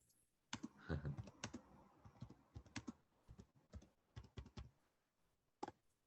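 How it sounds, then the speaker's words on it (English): Typing on a computer keyboard, close quiet clicks in short irregular bursts with brief pauses between them. "I will type it for you."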